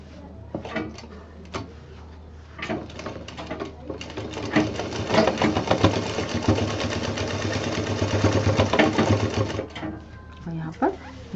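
A double-needle sewing machine stitches a fabric bag, starting with a few short bursts and handling clicks, then running in a long steady whir before stopping; a voice talks over parts of it.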